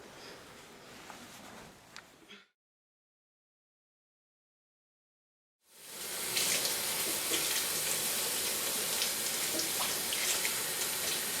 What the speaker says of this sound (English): just run it under water and gently rub the ends together to take out the dust